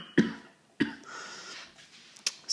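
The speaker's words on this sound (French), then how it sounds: "je m'apprête à tousser parce que ça me gratte la gorge" A man with a scratchy throat during winter illness gives two short, sharp coughs close to the microphone about half a second apart, followed by quiet breathing and a couple of faint clicks.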